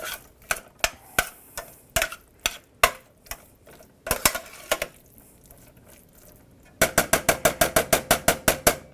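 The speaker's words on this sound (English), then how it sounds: "I'm going to add those first, and I'm going to give it a stir." A utensil taps and scrapes against a pan while stirring chopped kale stems, giving sharp clicks at an irregular pace that turn into a fast, regular run of clacks near the end.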